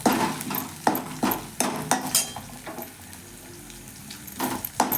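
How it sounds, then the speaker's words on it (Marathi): Food roasting in a pan while being dry-fried, with a steady sizzle broken by repeated clattering stirs and scrapes of a utensil against the pan, close by, with no talk. "आता पहा ते भाजून घेणार आहे मी"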